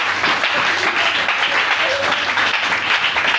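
Church congregation applauding and acclaiming during a French-language service, a dense steady wash of many hands clapping with voices mixed in throughout.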